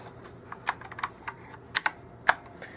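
Sparse, crisp keystrokes on a Rottay 104-key RGB mechanical keyboard, with irregular clicks and a few sharper taps, close and fairly quiet, with no talking.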